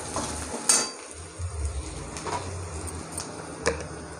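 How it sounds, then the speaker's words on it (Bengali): Onion and garlic fry in a pan before spices go in for a mutton liver curry, a soft, low sizzle broken by occasional clinks and scrapes of stirring. "পেঁয়াজ রসুন ভাজা হয়ে গেছে"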